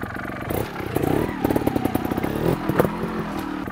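A motorcycle engine revs steadily under a slipped clutch during an off-road wheelie hop, its throttle swelling and falling through close, loud mechanical clatter with a brief sharper burst near the end.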